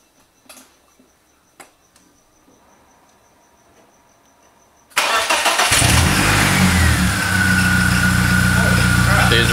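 A BMW E36 with a rough idle fault cranks and fires up after a few quiet clicks and taps, then settles into a loud, steady idle that runs close to the microphone.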